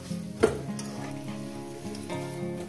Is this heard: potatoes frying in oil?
yes